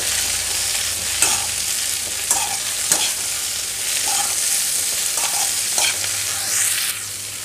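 Gongura leaves fry and sizzle in a pan, with a continuous hiss broken by periodic scraping stirs, close and steady throughout.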